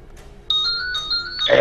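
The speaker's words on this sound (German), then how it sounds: "Telefon." Electronic phone ringtone in the Splinter Cell Blacklist video game, a steady two-tone warble that starts abruptly and holds, with game ambience beneath and a louder burst at the end.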